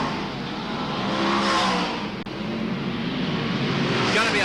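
Speedway race cars accelerate hard around a Wagga Wagga speedway track in heavy traffic, a loud continuous roar of engines swelling and fading as the pack passes close by.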